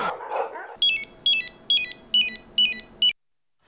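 Six evenly spaced bursts of a bright electronic telephone ringtone, loud and close, follow a moment of mixed background noise and stop abruptly before anyone answers.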